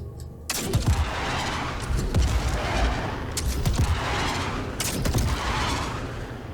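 Missiles launching in the Aegis Fire Bird versus Esperia Talon Shrike aircraft combat game, with repeated sharp whooshing bursts about every one to two seconds over a constant loud engine roar.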